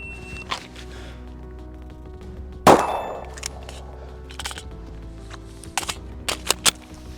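A handgun fires at a shooting range target, with one loud sharp report near 2.7 s and a ringing decay, followed by a few fainter sharp cracks later, against steady background hum.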